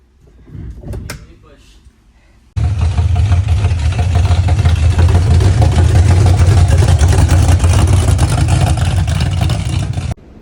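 A 1966 Ford Mustang starts up and rolls down a driveway, a loud steady engine rumble running for about eight seconds after a brief stretch of voices and a door-like thud.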